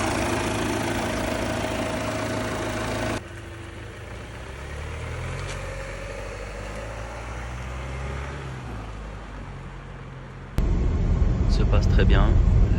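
A Volvo XC90 engine runs after an oil-consumption repair, a steady low mechanical hum with a shift in tone partway through and a louder burst near the end, with talk mixed in.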